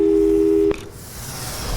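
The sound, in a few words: phone call hang-up tone in Portal 2 video game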